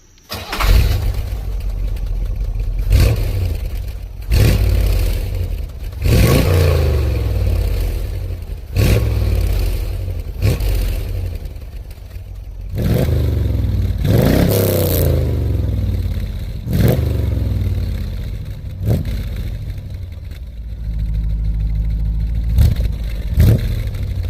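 A car fitted with a MagnaFlow muffler is started and revved repeatedly, a loud close exhaust drone broken by a dozen sharp throttle blips that rise and fall back to a rumbling idle.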